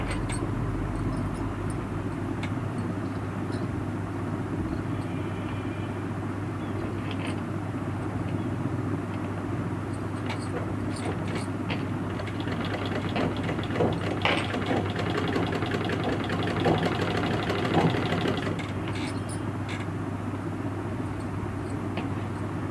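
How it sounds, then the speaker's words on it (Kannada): Sewing machine stitching canvas on trousers in a tailoring class, a steady low motor hum running throughout with a brief busier stretch near the end, no talk. "ಅಲ್ಲಿಗೆ ಕರೆಕ್ಟಾಗಿ ಹೊಲಿಗೆ ಹಾಕಿ."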